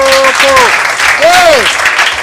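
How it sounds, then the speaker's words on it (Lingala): Crowd applause at a gathering about household chores and children, dense steady clapping with voices talking over it. "Bobeta maboko."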